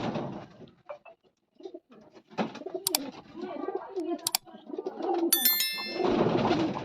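Pigeons coo intermittently while being handled during deworming drops, with bursts of wing flutter and short bright clicks in between, close up, with no talk.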